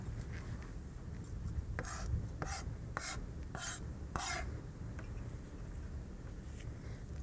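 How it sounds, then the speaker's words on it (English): Garlic cloves smashed into a chunky paste, giving a run of about six sharp, scraping rasps at an even rhythm, close and fairly quiet, with no talk. "just want to kind of smash that garlic"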